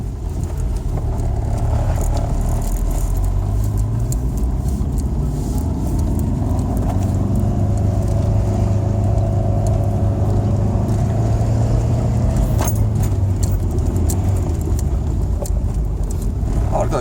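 A car with a snapped clutch cable is driven without the clutch and shifted roughly into second gear, its engine giving a loud, steady drone with road rumble throughout, close inside the cabin.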